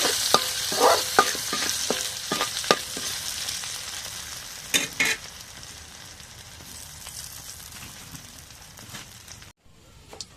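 Garlic fries in hot oil with a soft, steady sizzle while a spoon clicks and scrapes against the pan in quick strokes early on. Later the stirring eases and the sizzle carries on quietly until a brief drop near the end.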